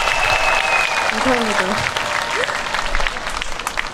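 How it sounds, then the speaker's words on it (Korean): Audience applause at an outdoor forest concert in Daegu during a performance: steady, dense clapping throughout, with a brief spoken thank-you from the stage over it. "박수 부탁드립니다."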